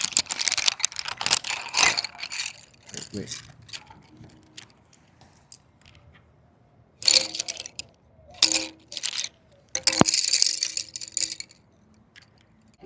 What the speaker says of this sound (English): Quick little pencil ASMR break.